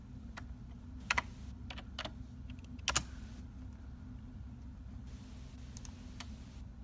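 A name is typed on a computer keyboard, a handful of quiet, irregular key clicks in small clusters over low room hum, with no talking.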